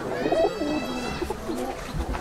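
A male pigeon coos in a Murshidabad loft, a loud close run of throaty rolling calls that repeats through the whole stretch with no other voices.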